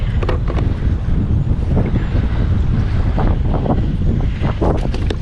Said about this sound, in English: Wind's starting to pick up pretty good out here too.